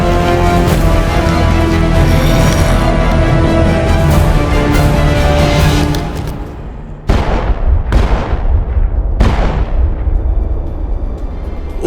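Video game gunfire in a Mass Effect battle: dense, continuous firing and booms for about six seconds, then three loud separate blasts each trailing off, with no talk.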